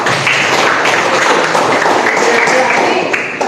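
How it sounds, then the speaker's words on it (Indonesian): Students in a classroom clap together, a loud, dense burst of hands that stays steady for about three seconds with a faint voice behind it. "Dede Rudi sama Ilham, kita kasih tepuk tangan dulu."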